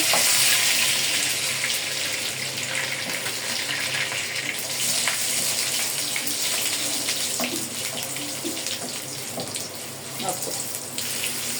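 Chopped garlic fries in oil in a pan, giving a loud, steady, close sizzle with a bright hiss that runs without a break and no talking.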